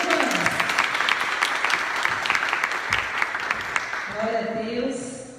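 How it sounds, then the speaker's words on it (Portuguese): A church audience gives a round of applause for Suzana, steady crowd clapping that tapers off near the end as a voice starts speaking over it. "uma salva de palmas pela vida da Suzana"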